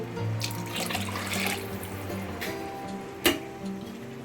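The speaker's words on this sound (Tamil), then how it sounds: "இப்போ நம்ம கரைச்சி வச்சுருக்கோம் இல்லையா புளி தண்ணி, இதை அப்படியே இதில் ஊற்றிடுங்க" Tamarind water poured into a cooking pan, a continuous splashing wash of liquid with a low steady hum beneath and a sharp clink near the end.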